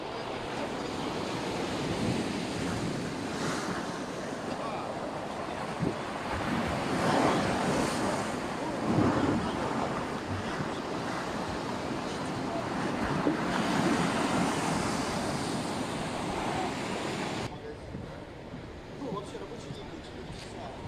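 Winter sea surf breaking on the beach at Sochi's central embankment, a continuous loud wash of waves mixed with gusty wind buffeting the microphone, close by, easing slightly near the end.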